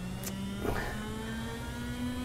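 Bentley Speed 8 Group C race car in Assetto Corsa droning at a steady engine pitch, with faint brief whooshes and no talking.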